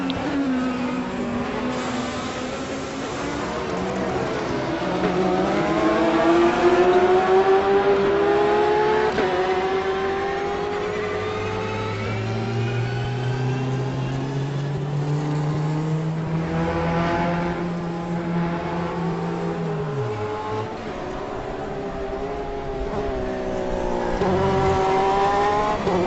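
Race cars at the Sebring 12 Hours endurance race roar and rise in pitch while overtaking, engine tones sweeping up and down as several cars pass close by, with tyre noise and no speech.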